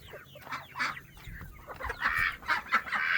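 Chickens in a barnyard pen at dusk give a run of close, busy clucks and squawks, with no talking.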